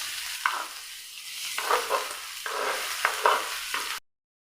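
Onions frying in a pan with garlic, ginger and a pinch of garam masala, stirred with a utensil; scraping strokes repeat every second or so over a steady close sizzle, with no talk.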